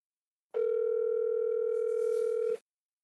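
A steady telephone ringback tone sounds alone for about two seconds, one continuous unbroken hum while a call is placed to reach someone, with no voices over it.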